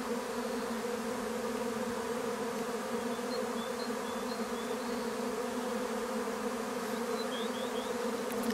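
A honeybee swarm settling high up as it forms a cluster, giving a steady, continuous buzz at moderate distance. The drone holds even throughout with a few faint higher whines, and nobody speaks.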